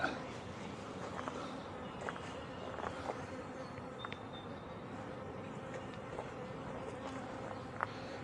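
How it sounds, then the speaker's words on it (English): Honeybees buzz steadily around hives a week after a colony split, a dense, continuous close-up drone with occasional faint knocks and shuffles of beekeepers working the boxes. "These bees are being pretty calm."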